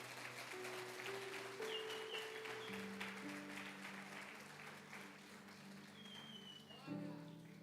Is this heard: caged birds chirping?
no